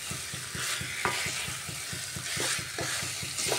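Potatoes sautéed with spices in a pan, giving a soft, fairly quiet sizzle under a quick, steady rhythm of stirring strokes scraping the pan.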